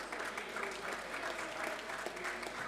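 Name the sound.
audience applause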